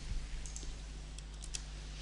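Keys tapped on a computer keyboard for a shortcut combination, a few faint, close clicks over steady background hum.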